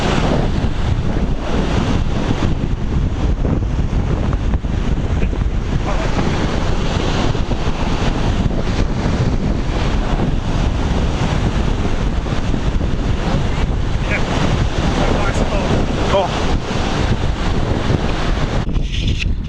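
Continuous roar of wind buffeting the microphone over rushing, splashing lake waves, loud and unbroken throughout.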